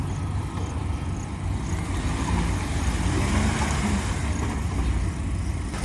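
Mahindra Thar engine in four-high pulling off a slippery surface on an off-road track, a steady loud rumbling drone with coarse low-end texture that holds level throughout, with no talking.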